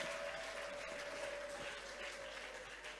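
A congregation applauds Jesus at a worship gathering. The applause is a steady, dense roar of many hands, faint and distant, with a sustained tone running through it and no clear talking.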